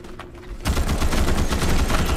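Rapid bursts of gunfire from enemy bugs in the video game Starship Troopers Extermination, starting abruptly after a brief quiet moment and continuing as a loud, dense stream of repeated shots.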